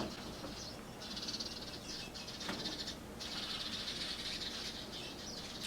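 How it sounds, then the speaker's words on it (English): Birds around an apartment building outdoors, with faint fluttering wings and scattered high chirps over a steady soft background hiss, distant and continuous. "I don't know if my camera can pick up on like all the birds that are by my apartment"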